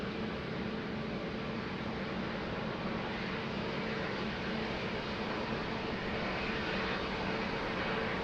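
At Lisbon Airport, a fixed-wing airplane roars as it takes off from runway 02. A loud, continuous, broadband engine rush holds steady throughout, with no voices.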